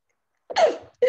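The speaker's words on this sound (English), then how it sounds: "Oh, I had to sneeze." A single short sneeze, close and fairly loud, with a brief follow-on burst right after it and silence before.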